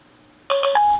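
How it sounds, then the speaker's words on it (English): A Scosche solChat Bluetooth speakerphone plays a quick run of three clear telephone dialing tones, followed by one longer held tone, standing out alone against near silence. "Okay, guys, now it's calling Mark."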